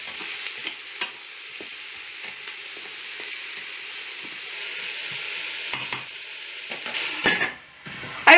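Onions, carrots and celery sauté in hot bacon grease in a pot, giving a steady close sizzle and crackle with occasional stirring scrapes and utensil clinks, no voices.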